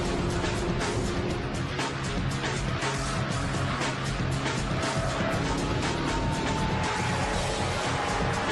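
A BMW 6 Series sports car's engine rumbles steadily in a production plant's sound-recording setup, a loud continuous broadband roar holding constant throughout.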